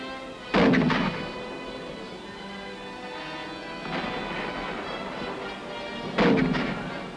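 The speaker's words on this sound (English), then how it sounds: "a 25th Division heavy mortar company fires at the enemy" A heavy mortar company of the 25th Division firing at the enemy in the Korean War: three heavy booming reports spaced a few seconds apart, each followed by a lingering rumble over a hissy, noisy background.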